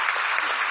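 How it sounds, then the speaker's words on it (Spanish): A church assembly claps loudly for the Lord, a brief burst of dense, even crowd applause filling the hall with no talking over it. "Démosle un fuerte aplauso al Señor"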